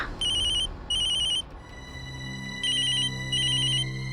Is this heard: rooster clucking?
no